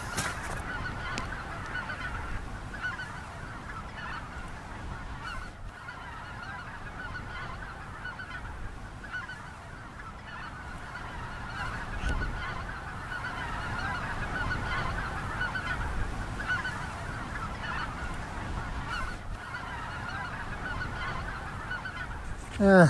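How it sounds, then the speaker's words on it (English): Distant white-fronted geese about half a mile away honk in a steady chorus across open Minnesota country, faint and continuous, with soft wind and rustling nearby. "You can hear some white-fronted geese half-mile away"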